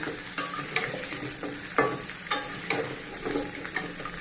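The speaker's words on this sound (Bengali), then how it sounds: "গোটা গোটা করে পেঁপে ভেজে নিচ্ছি" Whole papaya pieces frying in a pan, a soft continuous sizzle broken by a handful of spatula stirs and scrapes, close but fairly quiet, with no talk.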